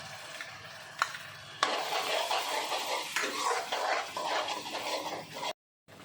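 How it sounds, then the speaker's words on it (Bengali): Chili paste and mustard paste stirred in a frying pan while making a Bengali bhola fish curry, giving a steady close sizzle with scraping spoon strokes that cuts off near the end. "এবার আমি লঙ্কা বাটা আর সর্ষেটা দিয়ে একটু নাড়াচাড়া করবো।"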